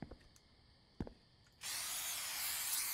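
Rat spray in The Convenience Store video game: after a couple of faint clicks, a steady hissing spray bursts on and holds at an even level for over a second.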